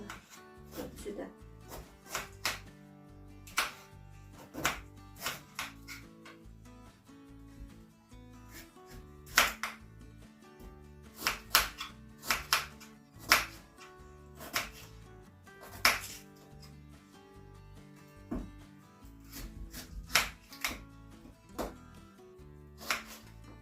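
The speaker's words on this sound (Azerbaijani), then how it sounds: "indi çuxundurumuzu doğrayırıq" Beetroot chopped with a knife on a board for cabbage pickle, a series of crisp irregular chops with brief pauses, close and moderately quiet, without talk.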